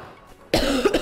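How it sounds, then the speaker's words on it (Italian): A sick man coughs loudly and close, a quick burst of two or three harsh coughs after a near-silent start, with game sounds faint underneath. "scusate chiaramente per la tosse"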